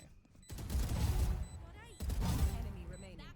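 Gunfire in the video game Valorant comes in two rapid, dense bursts about a second and a half apart, loud and close, while a voice talks over the shooting.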